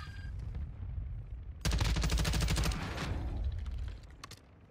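Rapid bursts of video game gunfire crackle loudly for a couple of seconds after a low rumbling lead-in, then fade into scattered sharper shots and a quieter tail, with no talking over it.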